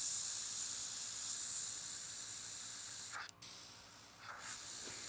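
Airbrush spraying paint for nail art, a steady continuous hiss running throughout with a brief break near the end before the spray resumes, no voices.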